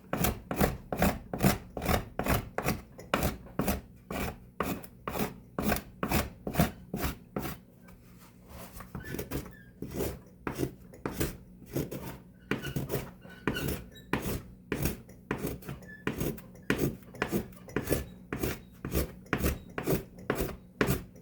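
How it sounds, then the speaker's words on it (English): Hand plane worked over the wooden back plate of a violin, giving a steady run of close, even rasping strokes about twice a second, briefly softer and scuffier midway, with no talking. "You have to keep on switching which way you're planing."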